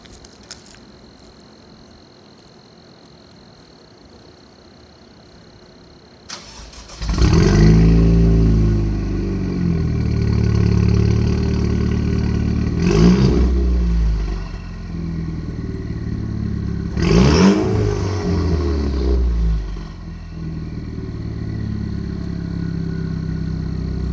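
Cadillac ATS 2.0T with a 3-inch straight-pipe exhaust and 2.5-inch turndown, quiet at first, then the engine barks loudly into a throaty idle with three sharp revs, close and raw.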